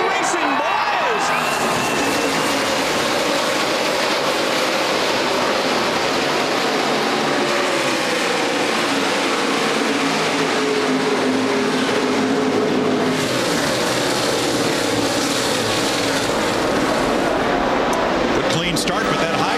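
Street stock race cars at Barona Speedway roaring as a race gets underway, a dense, continuous wall of engine noise sustained throughout, loud and close, with an announcer's voice running over it.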